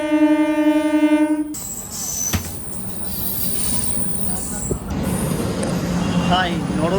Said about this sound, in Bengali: দেখো পণ্ডিত দীনদয়াল উপাধ্যায় জংশন বারাণসী মেমু সেটাও ঢুকে গেল।